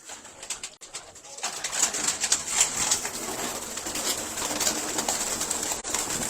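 Pigeons kept for sale coo in a loft, with repeated soft, throaty calls overlapping close by over a rustling background, starting after a quiet opening moment.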